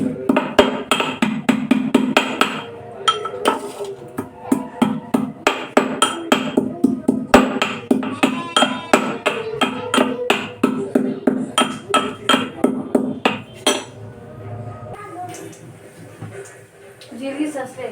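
Ginger and garlic pounded in a mortar in a home kitchen, giving a steady run of sharp, close thuds with clinking for most of the stretch before easing off, under intermittent talk.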